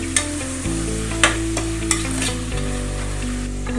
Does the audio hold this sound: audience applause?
no